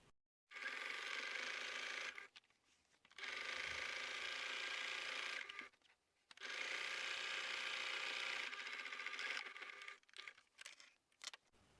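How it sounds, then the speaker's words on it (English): A sewing machine runs along the bottom edge of a laundry bag's outer fabric in three sustained whirring bursts separated by short pauses, close and clear with no talking. "now sew straight along the bottom of the outer fabric"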